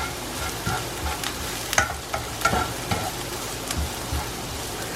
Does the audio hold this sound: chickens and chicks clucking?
no